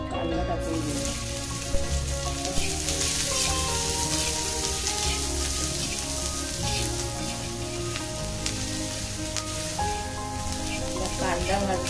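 Sliced onion sizzling steadily in hot oil in a heated pan on a gas stove, a continuous close crackle with faint fizzing throughout.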